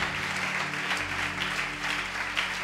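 A church congregation at a Sunday service claps loudly and steadily in praise of El Shaddai. The applause fills the room evenly from start to finish and no voices stand out.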